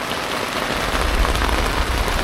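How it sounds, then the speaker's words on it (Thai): Heavy rain pounds steadily on a tent during a storm in a forest, with a low, gusting rumble of wind underneath, dense and continuous. "ทั้งลมทั้งฝนเลยครับตอนนี้"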